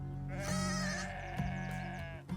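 A goat bleats loudly and close by, a long wavering cry followed by a second shorter bleat, heard alone outdoors among the Apalaanchis people of Colombia.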